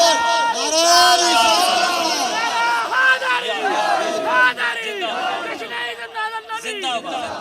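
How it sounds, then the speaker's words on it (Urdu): A large crowd at a religious gathering shouting the slogan Allahu Akbar in loud, overlapping, rising calls that come in repeated waves, with babble and voices throughout. "اس وقت میرے دل کو یاد آئے ہوئے اللہ اکبر نعرہ"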